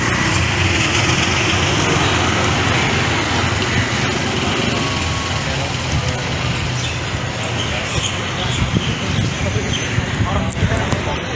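A rope-hoisting machine lowers a bus down from Kaptai lake toward the Karnaphuli river with a loud, continuous engine drone and whir, steady for the whole stretch with some faint clatter on top.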